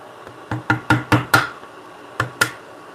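Sharp wooden cracks and snaps ring out as a chisel is driven through a mortise and the wood blows out, about seven distinct hits in two bursts, close and fairly loud with quiet workshop ambience between.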